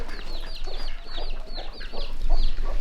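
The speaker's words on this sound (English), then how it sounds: "This poor mama chicken." A mother hen keeps up repeated clucking close by while gathering her chicks at a busy goat market, with bird chirps and farmyard noise mixed in throughout.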